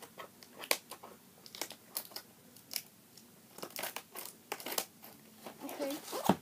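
Typing on a Logitech wireless touch keyboard connected to an Xbox One: irregular, crisp key clicks come in short bursts at close range over a faint low hum.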